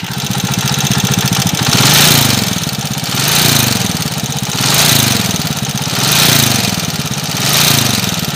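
A motorcycle engine runs loud and close, holding a steady rough drone that swells and fades in slow regular waves.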